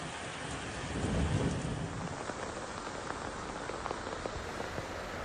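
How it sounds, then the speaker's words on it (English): Heavy rain pours during a night storm in Macedo de Cavaleiros, Portugal, amid severe flooding: a dense, continuous hiss of downpour with a low thunder rumble swelling early, then steady drumming rain, no voices. "it began to rain heavily after dark"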